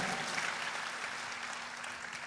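A congregation at a church sermon breaks into a warm round of applause, steady, dense clapping that fills the whole moment without speech on top.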